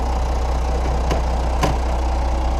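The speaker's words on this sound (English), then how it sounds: "Tractor stops moving." A tractor engine idles close by, a steady low constant rumble with a couple of brief clanks on top.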